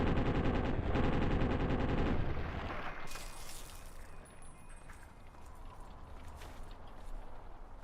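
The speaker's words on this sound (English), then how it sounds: "Who the fuck is shooting at me?" Rapid automatic gunfire in the game Fallout 3, a dense loud burst for the first couple of seconds that gives way to scattered quieter shots and rattling under a steady background.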